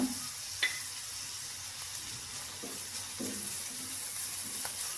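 Chopped green chillies frying in a pan give off a faint, even sizzle, with a few light stirring taps and scrapes scattered through it.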